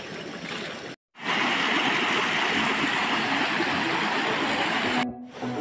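Natural drinking-water spring flowing in a rural upland province, a steady loud broadband rush of water running continuously, with two brief dropouts breaking the flow.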